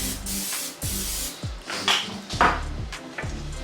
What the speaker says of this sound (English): I'm gonna go ahead and spray this muffin tin.